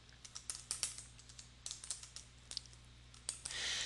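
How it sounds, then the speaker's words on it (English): Quiet keystrokes tap on a computer keyboard as text is entered into a table, an irregular run of light clicks close by over a low steady hum. "And I can just start typing"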